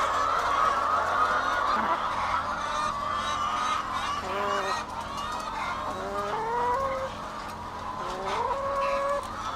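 Geese honk repeatedly in a noisy flock, with overlapping nasal calls and some clucking fowl mixed in, fairly close and continuous with no talking.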